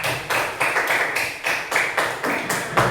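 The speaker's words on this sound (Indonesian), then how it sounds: "Tepuk tangan dulu untuk temannya." Classmates in a classroom clap together for a fellow student, a steady run of roughly ten bursts of group applause, close and fairly loud, with no talking over it.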